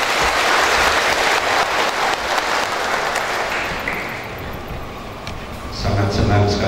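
Audience applause at a GKI church assembly of congregational councils in Nabire, steady dense clapping from a large crowd that fades toward the end before a voice and amplified sound take over.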